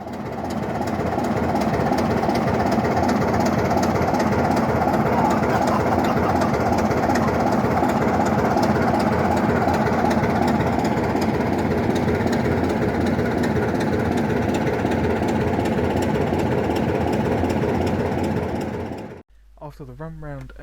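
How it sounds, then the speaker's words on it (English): On the Keighley and Worth Valley Railway, a heritage train pulls out of Keighley with a continuous loud, rumbling engine and rhythmic wheel clatter close by, holding steady for nearly twenty seconds before cutting off abruptly. "videos of it leaving Keighley,"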